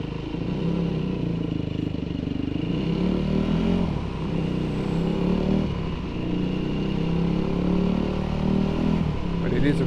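A 2005 Yamaha WR450 motorcycle engine runs steadily while riding, a loud, close, continuous rumbling drone with slight shifts in pitch and no pauses.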